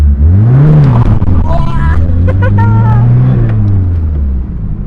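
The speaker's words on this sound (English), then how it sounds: "we're going to do some skids in front of other people's house" A 1985 Mazda 323 BF revs hard and spins its wheels doing skids, the engine rising and falling loudly and close while tyres squeal, with people talking over it.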